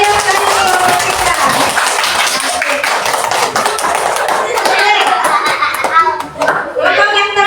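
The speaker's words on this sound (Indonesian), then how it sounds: "Kita bantu tepuk tangan yang meriah sekali kelompok 3." Continuous, energetic clapping from a classroom group, with children's voices and chatter mixed in throughout.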